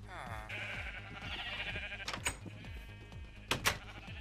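Minecraft sheep bleating in a farm area, several wavering bleats one after another over low background game music.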